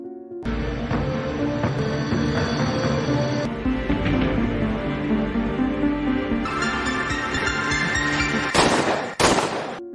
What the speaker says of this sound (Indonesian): Ia langsung mengambil pistol milik Eko, dan langsung membunuh pria psikopat tersebut